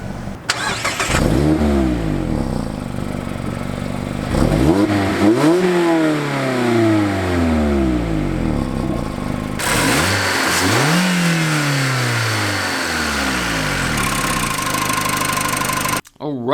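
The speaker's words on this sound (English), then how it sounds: "that was the sound of the naturally aspirated 2-liter 4-cylinder" A 2017 Mazda MX-5 Miata's naturally aspirated 2-liter four-cylinder starts up and revs hard, three rising-and-falling sweeps over a steady idle, loud and close with no talking.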